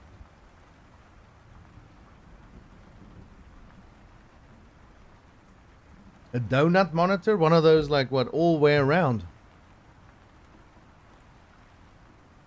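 Steady rain in the video game Surviving New Worlds makes a faint, constant hiss throughout, with someone talking over it for a few seconds in the middle.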